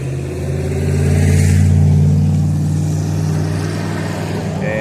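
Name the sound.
old pickup truck engine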